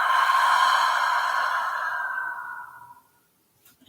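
A long, steady exhale during a restorative yoga breathing exercise, breathy and close, lasting about three seconds and fading out, followed by near silence.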